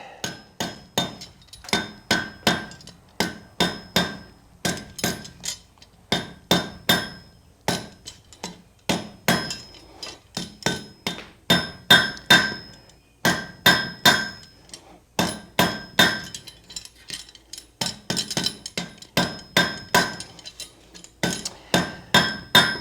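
Hammer blows ring out on hot steel as the ball end of a meat hook is forged freehand, a steady run of sharp metallic strikes in quick bursts with brief pauses between heats, close and loud.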